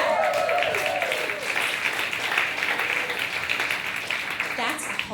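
Audience at a speaker's event breaking into sustained applause, a dense, even roar of many hands with a voice briefly heard at the start.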